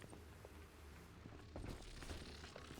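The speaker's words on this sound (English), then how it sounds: "I hear so many footsteps." Scattered footsteps in the video game BioShock 2, faint and irregular over a low, steady background rumble, with a few sharper steps toward the end.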